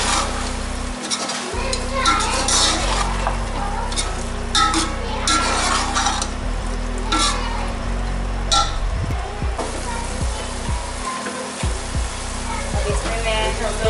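Chopped, peeled and deseeded tomatoes stirred in a cooking pan for Arabian mutton kabsa, with steady sizzling and frying, a scraping spoon and occasional clinks of metal against the pan throughout.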